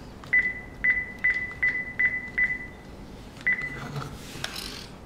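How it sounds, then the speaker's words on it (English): A home touch-tone telephone dials out to a cell phone, giving seven short, evenly spaced keypad beeps, then a pause and one more beep, followed by faint handset clatter in a quiet room. "Now I'm going to call my cell phone on my home phone."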